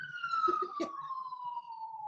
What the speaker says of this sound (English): can you hear all the sirens going by?